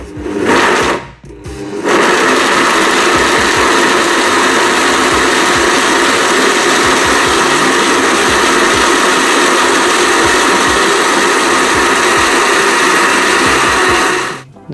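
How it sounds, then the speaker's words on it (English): A food processor pulsing apricots and desiccated coconut into a paste: a brief start and stop, then a loud, steady motor whir with a rattling, chopping texture that runs unbroken until it cuts off at the end. "Now blend or process this on high or just as a pulse"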